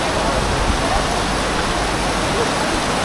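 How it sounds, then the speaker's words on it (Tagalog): Heavy rain pours steadily at Universal Studios Singapore, a dense, loud, unbroken hiss close by with no letup across the moment. "Ang lakas ng ulan."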